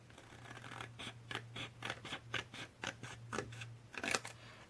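Scissors snipping paper for a Christmas pop-up album page, a close series of about a dozen crisp, rhythmic cuts over a faint low hum, no talking.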